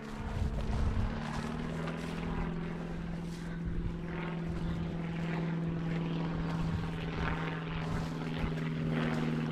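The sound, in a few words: airplanes flying overhead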